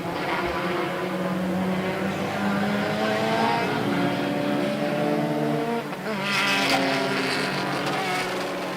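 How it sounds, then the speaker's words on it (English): Racing cars of the Indian National Car Racing Championship, with a car stalled before the start, drone along on their formation lap, several overlapping engine tones rising and falling steadily, with a brighter surge near the end. "the cars are out on their formation lap"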